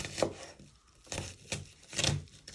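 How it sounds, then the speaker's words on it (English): A knife chops through roasted vegetables on a board in three or four separate, crisp knocks, close and fairly quiet, with no talking. "with your knife, just bring them all back together and just give them one final chop"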